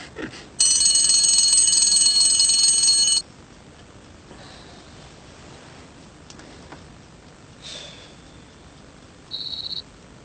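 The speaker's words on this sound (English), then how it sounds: "every night you set your alarm, and every morning you ignore it" Alarm clock ringing with a loud, shrill continuous electronic trill for about two and a half seconds, then cutting off, followed by a few faint beeps in a quiet room.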